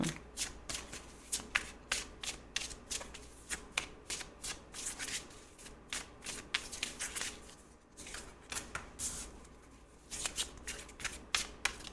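A deck of tarot cards is shuffled up close, with a steady run of crisp riffles and snaps repeating about every second, loud and alone with no talking.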